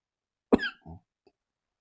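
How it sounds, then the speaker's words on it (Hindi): A man coughs once sharply, followed by a smaller second cough and a faint throat sound, close and alone in an otherwise quiet room during a physics lesson. "खांस लेता हूं पहले"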